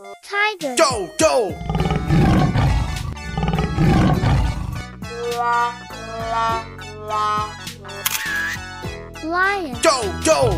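Cartoon tiger roaring in a children's animal painting cartoon: a loud, rough, drawn-out growling roar surrounded by cheerful kid voices, jingles and bouncy music.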